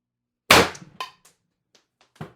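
A single sharp shot from an IntruBuster G2 firing an ART 8g S Type round, loud and close, with a quick decaying ring followed by a few faint mechanical clicks and a second smaller snap near the end.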